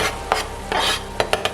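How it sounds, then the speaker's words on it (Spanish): Carrots tipped into a frying pan and stirred, giving a soft sizzle with a few sharp utensil scrapes and clicks against the pan, close and alone. "Echamos las zanahorias en la sartén."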